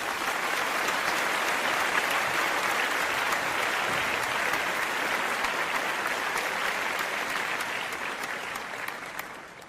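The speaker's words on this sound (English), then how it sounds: "I applaud her." Sustained applause, many hands clapping in a thick, steady patter that holds for several seconds and then gradually fades toward the end, with no speech over it.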